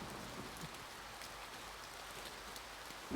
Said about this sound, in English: I like the sound of the rain